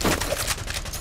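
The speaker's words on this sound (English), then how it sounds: "Enemy sniper shooting." Sniper rifle fire in a Call of Duty multiplayer match, a short burst of sharp cracks at steady volume with no talk.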